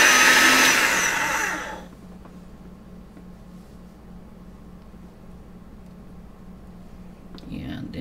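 A machine rolls a sheet of polymer clay, a loud whirring, hissing motor for about two seconds that then cuts off, leaving quiet room tone and a faint knock at the end.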